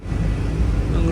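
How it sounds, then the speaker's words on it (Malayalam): A Vande Bharat Express runs through Mangaluru Junction railway station without stopping. A loud, steady low rumble fills the whole brief moment with no pauses. "മംഗളൂരു ജംഗ്ഷൻ റെയിൽവേ സ്റ്റേഷനിലേക്ക് ഇതാ ട്രെയിൻ എത്തുകയാണ്."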